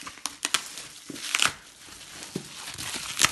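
Scrapbooking album package being unwrapped close by, with scattered crinkles, crackles and soft tearing of plastic wrap in short bursts and no talking.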